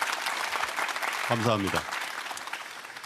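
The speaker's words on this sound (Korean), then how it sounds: "여러분 격려의 박수 한번 크게 주시겠습니까?" An audience at a live presidential policy talk event gives a long, strong round of encouraging applause, dense clapping throughout, with a brief spoken thank-you rising over it midway.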